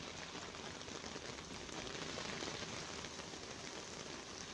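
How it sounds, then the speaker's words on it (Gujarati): Heavy monsoon downpour in Surat, Gujarat, a dense, steady hiss of rain falling on surfaces, continuous and even throughout with no voices. "હવામાન વિભાગની આગાહી મુજબ સુરતમાં ધોધમાર વરસાદ પડ્યો છે"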